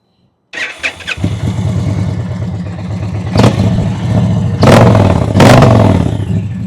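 A motorcycle engine cranks and catches, settles into a rumbling idle, then is revved to about 2,000 RPM in three rising blips, each louder, all close up.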